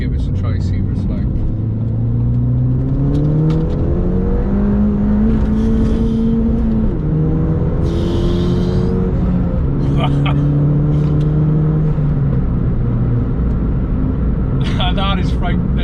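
A Ford Fiesta ST with a Kaaz plated differential pulls hard in second gear, its engine note climbing steadily in pitch through repeated rising sweeps, loud and heard from inside the car with a voice talking over it.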